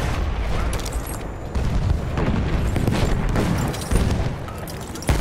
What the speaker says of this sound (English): lance une grenade. Attention.